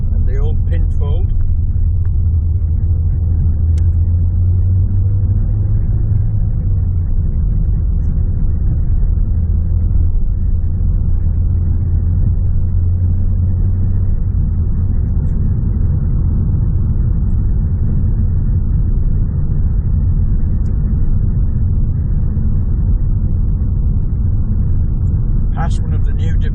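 A car drives along a town road in Driffield, with a steady low engine and tyre rumble close inside the cabin that stays fairly even throughout, and a voice talks over it.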